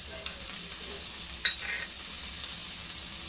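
Spices sauté in a kadhai with a soft, steady sizzle, broken by a few faint scrapes and clicks of stirring.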